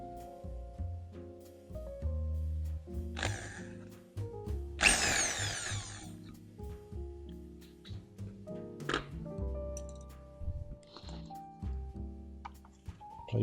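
A 3.2mm drill bit is run in short bursts through the fabric of an MGB convertible hood, its whine rising and stopping between pauses, with soft handling thumps and knocks close by.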